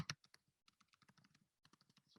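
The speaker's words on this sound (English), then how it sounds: "I'm just typing in a random sentence here" Typing on a computer keyboard produces a close, quiet run of irregular key clicks, with a short pause partway and then another burst of taps.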